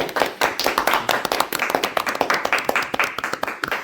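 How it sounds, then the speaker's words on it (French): An audience applauds a newly introduced team in a television studio, with a steady rhythm of distinct, fairly close hand claps continuing throughout. "Alors là on va tous les applaudir s'il vous plaît."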